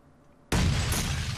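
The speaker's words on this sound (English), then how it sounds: "that explosion was in the other house" A loud explosion in PUBG bursts in suddenly after near silence, a broad rumbling boom that holds steady at full strength to the end.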